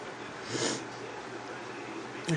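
A person with a runny nose gives two short, wet sniffs, one early and one at the very end, against a steady background hiss.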